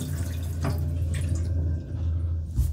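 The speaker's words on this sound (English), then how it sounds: "The directions just tell us to fill the water into through this section and watch your line as you come up." Water pours into the tank of an Arctic Air Pure Chill personal air cooler, a close, steady trickle and splash with a few brief drips and bumps, no talking.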